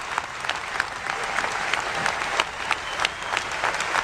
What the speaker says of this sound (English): You hear their cheering?